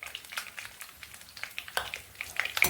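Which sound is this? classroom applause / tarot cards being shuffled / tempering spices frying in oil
tempering spices frying in oil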